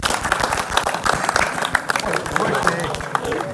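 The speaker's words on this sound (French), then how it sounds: "on peut l'applaudir" Scattered applause from a small audience at a judo katame-no-kata demonstration in Luc-sur-Mer, irregular claps mixed with thuds and murmuring voices in a hall.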